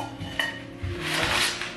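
A wooden spoon knocks and scrapes against an Always Pan, giving a short clack and then a rubbing scrape, close up, with no voices.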